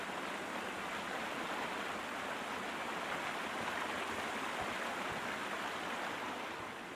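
Steady flowing water in the game Squirrel Holmes, a continuous even rush like a stream or small waterfall, moderately soft and uninterrupted, with no voices.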